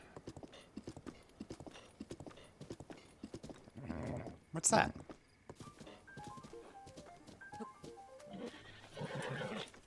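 Hooves clip-clop rapidly in The Legend of Zelda: Breath of the Wild, a horse whinnies loudly midway, and a short musical jingle follows while a voice briefly speaks.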